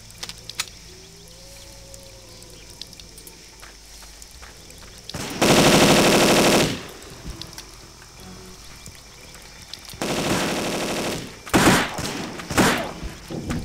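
An AK rifle fires in the shooter game Cold Zero. A couple of loud automatic bursts stand out against a quiet background, with short thumps and clicks between them.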